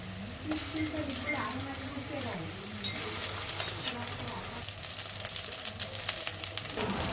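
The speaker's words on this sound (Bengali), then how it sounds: "কড়া করে ভেজে নিচ্ছি" Chicken meat and onion frying in oil in a home kitchen, a continuous sizzle with stirring clatter, steady and close, with a voice talking over it.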